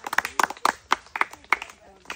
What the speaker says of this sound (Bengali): হাততালি, হাততালি সবাই।